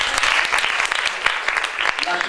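A church audience claps for a bishop at an anniversary gathering, a dense burst of close, lively applause over about two seconds, with voices mixed in.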